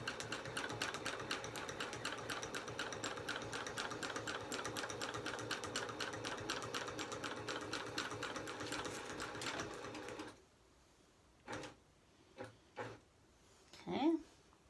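A domestic sewing machine bastes a quilt on a Cutie quilting frame, running steadily with a fast, even stitching chatter for about ten seconds before stopping. A few faint thumps and handling noises follow, with someone talking nearby.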